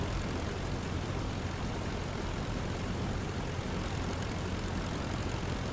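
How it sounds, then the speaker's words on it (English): Steady droning propeller engine of an Albatros D.Va biplane in a flight simulator during the takeoff roll, a constant loud broadband roar with no pauses and no talk. "Now we'll bring the airplane around to the left."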